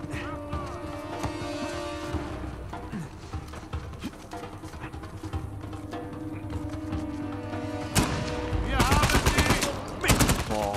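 Gunfire in the action video game Uncharted 4 on a volcano level: rapid bursts and single shots crack over a continuous game soundscape, growing denser and louder toward the end, with a voice talking over it.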